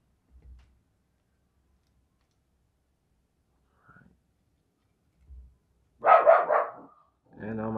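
A dog barks loudly a few times nearby in a quiet room, short bursts close together, with faint clicks of handling plastic parts earlier.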